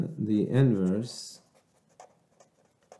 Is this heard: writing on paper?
yes